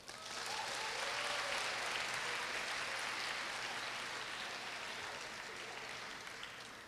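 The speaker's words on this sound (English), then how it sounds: "Let's give each other a big round of applause." Large audience of over 600 students applauding at a Korea University graduation ceremony, a broad sustained wash of clapping that swells quickly and fades gradually, heard from a distance in a hall.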